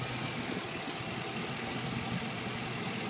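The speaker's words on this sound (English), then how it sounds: "You can barely hear this thing at idle until you start giving a little bit of throttle." Steady, quiet idle from an LSX-swapped Chevelle wagon: a smooth, even low rumble with faint broadband hiss and no revving or talking throughout.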